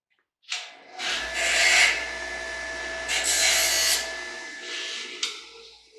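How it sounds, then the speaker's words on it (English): A brass piece from a circuit breaker is ground against a grinding tool, producing a close, steady abrasive rasp that rises and falls in a few swells over several seconds, with no talking. "This, I believe, is going to be brass. Let me grind it real quick."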